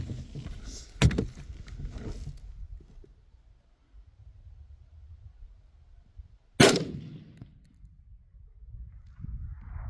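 Two sharp shots from an AR rifle fired at a target outdoors, a few seconds apart, each a loud crack with a short decay against quiet background.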